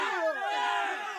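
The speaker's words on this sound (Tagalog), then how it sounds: "Nakakapangilabot ang sigawan ng napakaraming tao na pinangungunahan ni Rico." A large crowd of many people shouting battle cries together, a sustained mass of raised voices blending into a loud, continuous roar.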